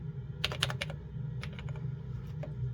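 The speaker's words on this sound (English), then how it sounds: "The keyboard on this is really nice. I think it has Alps keys in it." Keys clack on a vintage computer keyboard with Alps switches in a short burst of typing, a quick cluster of crisp strokes, a pause, then a few more keypresses, close up over a low steady hum.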